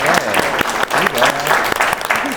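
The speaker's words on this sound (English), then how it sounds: "Let's do a round of applause for our panelists." An audience at a career-advice panel session applauds the panelists, with steady clapping mixed with voices talking over it.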